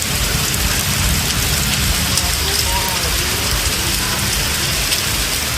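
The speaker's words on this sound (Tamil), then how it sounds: "சென்னையில் இரவில் பரவலாக மழை பொழிந்தது." Heavy night-time rain in Chennai, a dense, steady roar of downpour hitting surfaces, loud and unbroken for several seconds with no voices.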